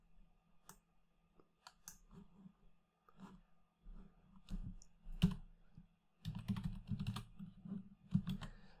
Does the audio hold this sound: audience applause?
no